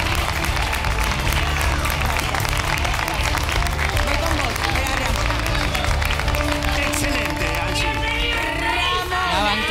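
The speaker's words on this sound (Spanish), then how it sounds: "Aplausos de pie para Angie Valdiani" A studio audience on a television talk show gives a standing ovation, with sustained, dense applause filling the space alongside tonal music and a voice running underneath.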